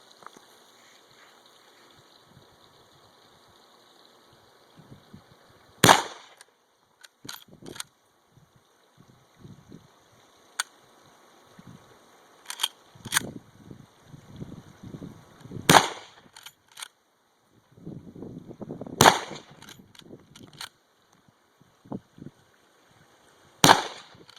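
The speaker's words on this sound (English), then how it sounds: "we'll just run 5 or 6 rounds through it and see how she does" A Mossberg 464 lever-action rifle fires several rounds outdoors, sharp isolated cracks spaced several seconds apart, interspersed with softer clicks and clatter of the lever action between shots.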